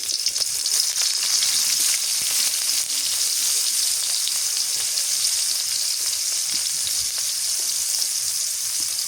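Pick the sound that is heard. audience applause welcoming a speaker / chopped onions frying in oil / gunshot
chopped onions frying in oil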